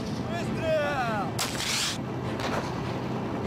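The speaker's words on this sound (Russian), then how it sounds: "Выстрел!" One artillery shot is fired at a coastal defense brigade base in Crimea. It is a single sharp, fairly distant blast over steady background noise, and a voice speaks just before it.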